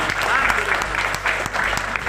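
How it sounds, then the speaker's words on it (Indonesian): An audience at a property project presentation in a hall claps together in a dense, steady burst of applause, close and sustained. "Tepuk tangan untuk kita semua."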